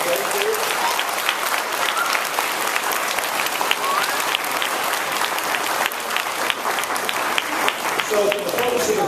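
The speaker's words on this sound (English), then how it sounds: "Can we give them a round of applause for what they do?" Sustained applause from a large crowd, dense and steady clapping with a few voices and cheers mixed in throughout.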